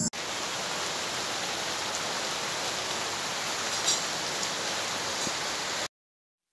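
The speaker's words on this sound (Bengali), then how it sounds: "বাইরে প্রচুর পরিমাণে বৃষ্টি হচ্ছে।" Heavy rain pours outside in a dense, unbroken hiss of drops on surfaces, loud and constant without pause until it cuts off abruptly near the end.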